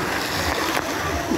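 Strong, high-pressure water spray blasts at a water park, a dense, loud hissing splash that runs without a break.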